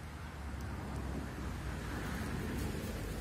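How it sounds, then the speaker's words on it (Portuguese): A single car passes on a rural road, a broad steady rumble swelling slightly toward the end, with wind rustling through banana leaves behind it. "de vez em quando passa um carro"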